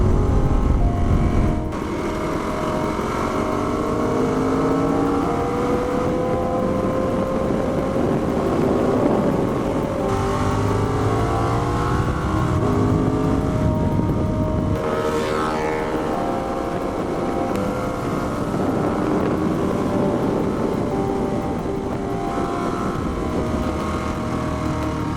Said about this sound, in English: I did my first 4 laps out there at RPM Raceway.